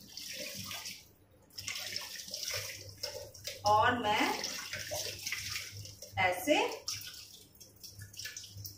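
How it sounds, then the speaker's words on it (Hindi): Homemade paneer being rinsed under a running kitchen tap, water splashing and rushing in bursts with gurgling swells while someone talks quietly over it. "एक बार नल के नीचे डालूंगी, नल के नीचे पानी के नीचे डालूंगी इसे"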